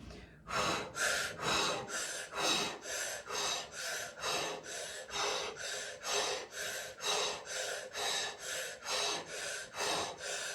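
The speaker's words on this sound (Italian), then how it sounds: "Vai, respiro circolare." Circular breathing during a shamanic ritual: about twenty rapid, forceful breaths follow one another in an even rhythm, each a loud, close, rushing puff of air with no pause and no talking.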